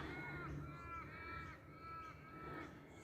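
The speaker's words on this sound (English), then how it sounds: "Being chased by a crow by the sounds of it." A crow caws several times in a row at a distance, harsh repeated calls over a quiet outdoor background.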